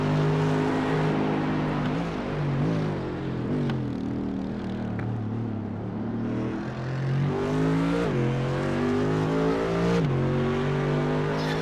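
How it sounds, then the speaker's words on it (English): Race cars lapping the Suzuka circuit in a warm-up race, engines continuously rising and falling in pitch as they accelerate, shift and pass, loud and sustained with no talking. "take in the sights and sounds of the cars making their way around the Suzuka circuit"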